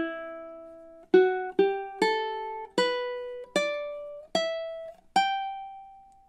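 Measures 21 and 22 of a ukulele picking melody played in time, about eight bright plucked notes in a syncopated rhythm, each ringing and overlapping slightly, close and solo.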